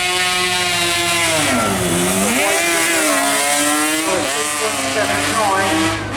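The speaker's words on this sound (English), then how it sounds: "Just building the revs up." A 1986 Yamaha TZR 500 racing motorcycle, 498cc, revving at a speed-trial start line, its loud buzzing two-stroke wail rising, dipping and climbing again in continuous close blips.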